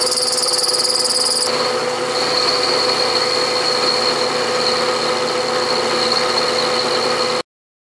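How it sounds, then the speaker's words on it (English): Milling machine cutter plunge cutting steel keys for a Kurt AngLock vise, a steady mechanical whir with high squealing tones running throughout, loud and close with no talking. "the cutter has to be turning in order for me to plunge cut"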